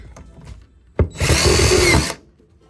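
A short click, then a power drill whirs at high speed into cabinet panels for about a second before winding down, loud and close with no talking.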